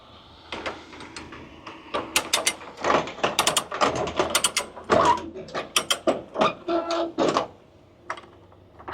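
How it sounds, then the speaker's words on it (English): Ratchet strap being cranked tight on a shipping load: a rapid series of sharp metallic clicks in uneven bursts, close and fairly loud, with no talking. "That's how you know your straps are tight, when they make that sound."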